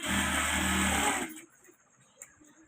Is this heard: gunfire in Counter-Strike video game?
no